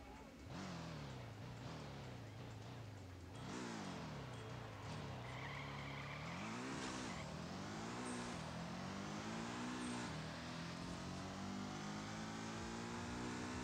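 A tuned Subaru WRX STI race car in Nitro Nation revs and accelerates in rising sweeps through several gear changes, with tire squeal, heard quietly and steadily throughout.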